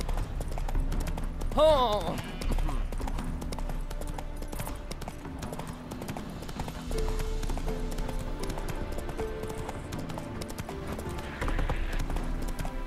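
Horse hooves clip-clop at a steady galloping rhythm in The Witcher 3, with a whinny near the start and a man's exclamations over the hoofbeats, plus background music throughout.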